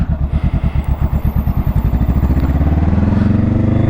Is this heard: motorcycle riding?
yes